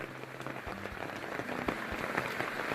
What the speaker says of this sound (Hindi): और इतना रफ्तार से पानी जा रहा है।